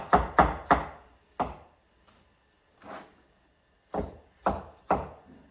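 A knife chops ginger on a cutting board in sharp, close thuds: a quick burst of three, then scattered single strikes and another group of three.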